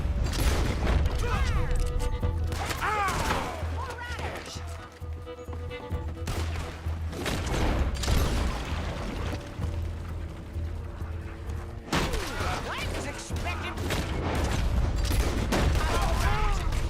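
Gunfire in Red Dead Redemption 2, repeated sharp shots and booming bursts in irregular clusters across the whole stretch, loud and close, with mechanical clicks between volleys.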